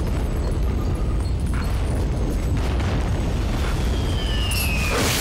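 A fireball explosion in Zelda: Twilight Princess, a loud, sustained rumbling boom with heavy low end filling the whole stretch, a brief bright streak near the end.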